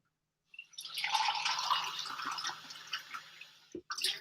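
Tap water runs into a pot for pasta, starting after a brief silence as a bright, splashy stream that fills for a few seconds before cutting off with a small clunk.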